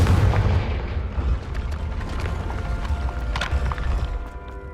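Confringo fire-blast spell in Hogwarts Legacy, a dense rumbling barrage of booms and bursts with heavy low-end, continuous over a few seconds with sharper cracks near the end.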